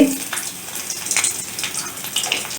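Crushed onions dropped into a tablespoon of hot oil in a pan while cooking an ash gourd curry, giving a steady, close sizzling hiss that flares at the start and then settles.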